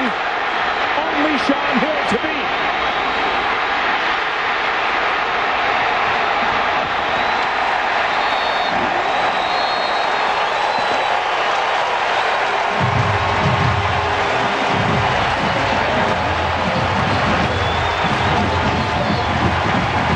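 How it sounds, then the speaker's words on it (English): A stadium crowd at a college football game between Maryland and NC State rises with a loud, sustained roar and cheering, a dense wash of noise throughout with a play-by-play voice talking over it. "you hear the crowd coming to their feet"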